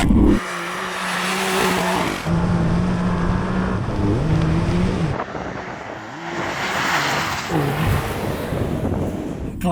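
Several Porsche cars, including a 911 Dakar, roar past at full throttle in an off-road drag race, engines revving hard and rising in pitch with wind buffeting the microphone, loud and close throughout.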